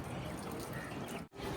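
Water pouring from a watering can onto potted plants in a terrace garden, a steady soft trickling stream that runs continuously, briefly cutting out near the end before resuming.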